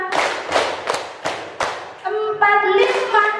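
A group of adults claps a counted rhythm in a classroom-style gathering, four sharp claps at steady intervals followed by a denser burst. Near and loud, with a voice and a brief tone in the later part.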